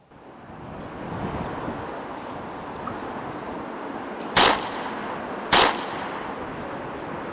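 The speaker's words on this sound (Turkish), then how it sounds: "Vezne'de silah patladı." Two sharp, loud gunshots about a second apart at a bank teller counter, cracking over a steady background rumble of street noise.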